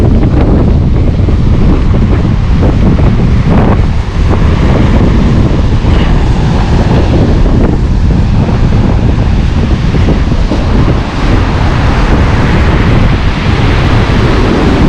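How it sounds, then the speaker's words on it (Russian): Strong sea wind roaring and buffeting the microphone on a seafront promenade during a big storm, with the rumble of heavy waves blended into a constant loud, unbroken wash. "Сильнейший ветер со стороны моря и обалденный огромный шторм."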